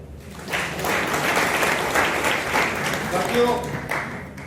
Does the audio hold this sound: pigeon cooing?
no